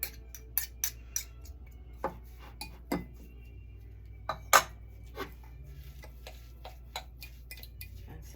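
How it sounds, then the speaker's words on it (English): A fork scrapes and taps against a bowl while breaking up graham cracker crumbs mixed with melted butter, giving a steady run of sharp, close clicks spaced about half a second apart, with one louder knock midway. "I'm gonna actually get a little bit of a fork in here to break this up so it's nice and crumbly"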